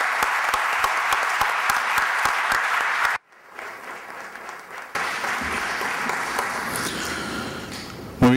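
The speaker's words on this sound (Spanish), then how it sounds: "pedir un fuerte aplauso para el maestro Francesco Tonucci" Audience applause for Francesco Tonucci at a civic ceremony presenting him with the key to the city: dense, loud clapping for about three seconds, a sudden drop to near quiet, then a softer, murmuring crowd with scattered claps.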